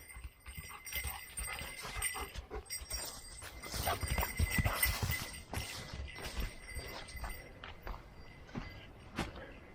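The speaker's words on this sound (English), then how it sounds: "Here comes the horse." A horse clip-clopping along a forest trail through hemlocks, a run of uneven hoof knocks that grows louder toward the middle, then stays moderate.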